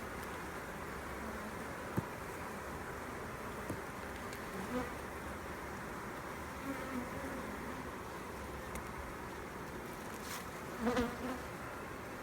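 Honey bees buzz at the hive in a steady, dense drone that holds evenly throughout, with a few brief closer passes of individual bees.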